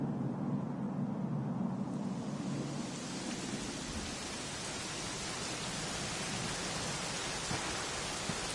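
Steady rain pours throughout a scene in the video game Dragon Quest XI, a dense, even hiss that holds at a constant level with a low rumble underneath and no voices.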